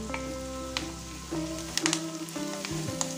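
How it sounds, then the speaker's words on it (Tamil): Onions sizzle steadily in a hot pan for Kerala-style fish pollichathu, close and continuous, with a few soft stirring scrapes. "இப்போ வெங்காயத்தை சேர்த்திக்கலாம்."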